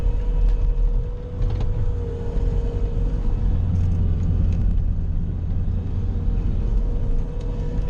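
Bobcat pushing about two inches of snow during a blizzard, a steady low engine rumble and drone that stays loud and close throughout, with a brief dip in level near the start.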